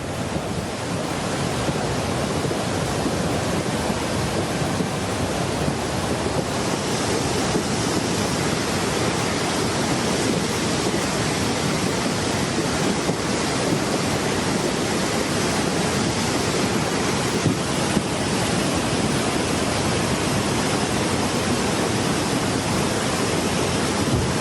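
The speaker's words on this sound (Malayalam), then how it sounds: "വിലങ്ങാട് പുഴയിൽ നീരൊഴുക്ക് വർദ്ധിച്ചു" The swollen Vilangad river in the hills of Kozhikode, running high after heavy rain, gives a steady, loud, dense rush of water that stays unbroken throughout, with no voices.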